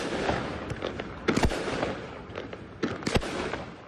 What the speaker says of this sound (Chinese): 低空烟火疯狂发射，